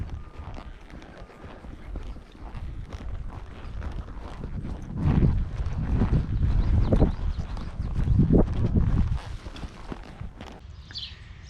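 Horses on a mountain pack trip walk with a steady, uneven clip-clop of hooves close by, with gusts of wind rumbling across the microphone and louder hoof strikes in the middle stretch.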